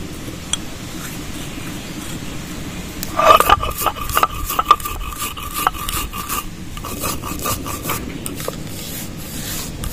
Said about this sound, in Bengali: ভাজা মৌরিটা গুঁড়ো করে নেব।